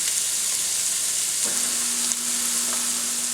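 Bacon frying in a pan gives a dense, continuous sizzle and spatter, close up and unbroken, with a faint steady tone entering partway through and no voices.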